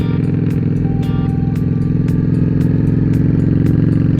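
A Vance and Hines-equipped motorcycle engine idling nearby with a steady, throbbing rumble and regular ticking clatter over it, no voices.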